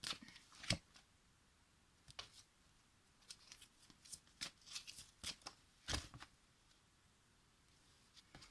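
Tarot cards are shuffled by hand in a quiet room, giving soft, irregular flicks and riffles in short bursts, faint overall, with no talking.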